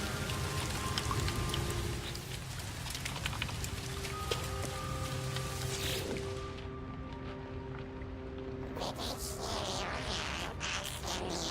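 Steady rain falls across an alien planet in the No Man's Sky game, a dense wash of patter and droplets with faint synth tones drifting over it, the rain thinning toward the end.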